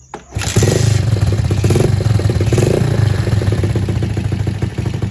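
A motorcycle engine starts and settles into a steady, close, loud idle as it warms up, its even mechanical chatter continuing alone without voices.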